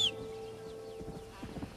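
A horse in a video game gives a brief high whinny at the start, followed by several soft, uneven hoof clops growing a little louder toward the end.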